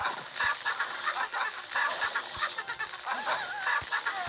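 A chicken clucking emote plays in a Clash Royale match, sounding as a series of short, repeated clucks with a steady rhythm over game sounds.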